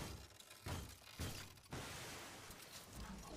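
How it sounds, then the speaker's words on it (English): In the Titanfall 2 shooter game, glass shatters in several quick crashing bursts over about three seconds, quiet and set against a dense, noisy game background. "Smash through the glass."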